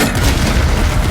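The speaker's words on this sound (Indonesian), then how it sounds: "mereka termakan jebakan bom" A bomb trap going off in a gangster action film, heard as a loud, sustained rumbling blast that fills the whole moment with dense low boom and debris noise, with no voices.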